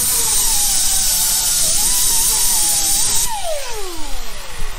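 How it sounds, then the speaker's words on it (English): A die grinder fitted with a 40-grit roll lock wheel cleans rust-repair metal on a 1969 Chevy Nova, a steady high whine that shifts pitch under load, then drops in speed as the tool spins down near the end. "I'm going to use like a 40 grit little roll lock wheel on my die grinder here"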